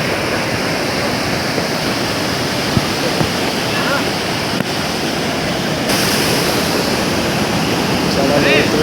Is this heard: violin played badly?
no